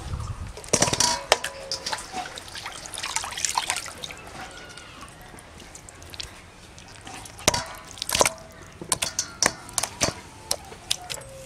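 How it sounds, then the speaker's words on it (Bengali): Raw chicken meat washed by hand with water for a green apple chicken curry, a string of irregular splashes, drips and sharp clinks against a bowl, close and fairly loud, with quieter trickling in between. "তাই মাংসটা আমি সুন্দর করে ধুয়ে নিচ্ছি।"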